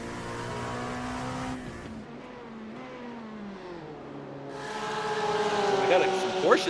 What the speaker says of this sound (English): We got some Porsches mixing it up